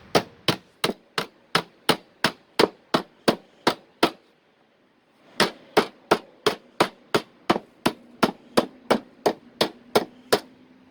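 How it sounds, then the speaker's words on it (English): Metal being hammered to bend a part for a custom bike box: a steady series of sharp, ringing blows, about a dozen in a row, a brief pause, then another even run of strikes, close and loud. "So we take that, and then we just start hammering."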